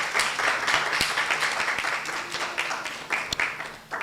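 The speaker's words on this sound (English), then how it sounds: "deserving of a round of applause" An audience claps for young debaters at a debate competition, a continuous moderate wash of applause with a few sharper individual claps standing out near the end.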